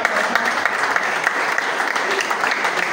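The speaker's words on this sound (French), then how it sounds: "Est-ce qu'on peut l'applaudir?" A crowd at a cultural film screening applauds the publisher of a book: dense, steady clapping from many hands, fairly loud, continuing without a break for the whole stretch.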